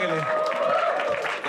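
Studio audience applause greets a rapper on a comedy talent show, a brief burst of clapping and crowd noise heard under a loud voice talking.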